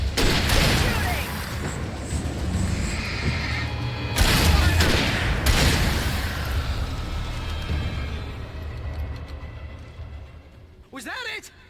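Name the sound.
gunfire in the video game Alan Wake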